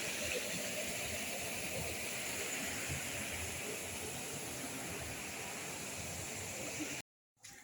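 A mountain river in the Carpathians rushes steadily as a broad, continuous roar of flowing water, heard up close and alone before a sudden cut near the end.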